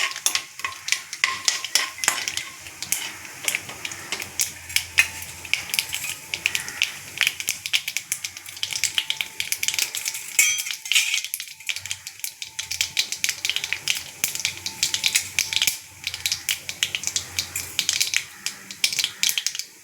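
Mustard seeds, cumin and broken dried chillies crackle and fry in hot oil in a pan while allam pachadi is made, a steady sizzle with dense popping and occasional stirring and utensil scrapes, close and continuous.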